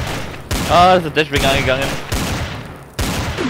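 Gunfire in the video game Trouble in Terrorist Town, with loud shots breaking out between and under excited German talking.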